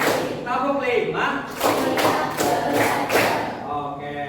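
Students perform a counted clapping pattern in a classroom game. Several crisp, evenly spaced group claps ring out in the middle, framed by talking before and after.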